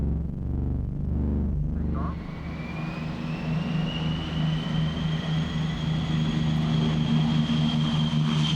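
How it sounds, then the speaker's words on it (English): A P-38 Lightning twin-engine propeller aircraft with turbocharged Allison engines drones steadily at an air show, a deep engine roar with a rising whine, loud and continuous throughout as if passing close by. "The P-38 Lightning, of course, powered by a pair of Allison turbocharged engines."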